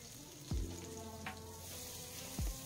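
Green chilli, ginger and garlic fry in hot oil for a momo filling, giving a steady close sizzle with a few soft knocks of the spoon against the pan.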